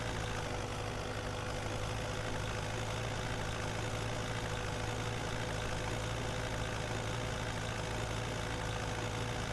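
A tractor engine in the Farming Simulator 17 video game idles steadily, a low continuous drone with a faint knocking texture that holds level from start to finish, with no talking over it.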